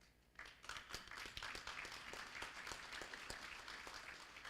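An audience applauding at an agricultural college graduation ceremony, a dense, lively patter of many hands with sharper individual claps standing out, rising quickly and holding steady at a distance.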